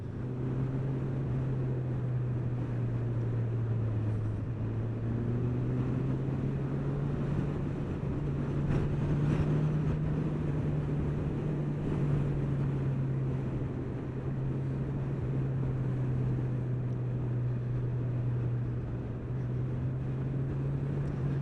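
A 2019 Kawasaki Z1000 SX motorcycle rides in third gear at about 30 mph and 3000 RPM. The engine holds a steady, gently wavering drone under heavy wind rush, with no voices.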